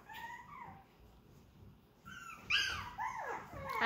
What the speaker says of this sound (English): The little puppies.